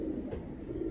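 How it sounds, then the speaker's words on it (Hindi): Pigeons coo softly at an old dried-up well in Pakistan, a low murmuring drone with little else around. "अब तो कबूतर शबूतर ही बैठे नजर आ रहे हैं बस यहाँ पर"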